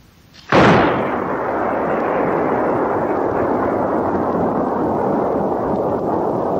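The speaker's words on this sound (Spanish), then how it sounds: "¿Os apetece un cañonazo Megatron?" A cannon-blast sound effect booms out at a disco night, hitting sharply and loudly after a brief quiet, then leaving a dense, sustained roar that holds steady to the end.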